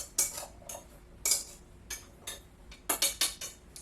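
Seasoned high-protein snack pieces tossed into an air fryer container, a run of light clinks and rattles in small clusters, close and fairly quiet, with no voices.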